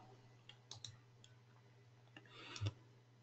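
Quiet mouse clicks near a computer under a steady low hum, a few isolated ticks early and a short cluster of close clicks near the end.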